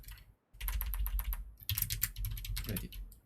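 Rapid typing on a computer keyboard while working in Unity, a dense run of close, crisp key clicks with a brief pause near the start and no talking.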